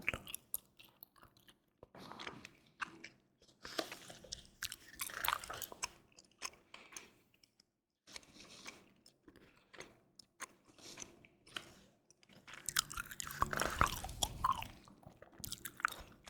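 Close, wet gum chewing with soft rhythmic smacks and clicks, irregular bursts spread across the clip, intimate and quiet in an ASMR setting alongside occasional paper page handling.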